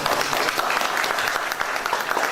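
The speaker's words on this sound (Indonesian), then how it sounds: "Nah, tepuk tangan untuk Mergosari." A crowd at a village head candidates' debate in Mergosari applauds steadily, dense clapping holding at an even level throughout without speech.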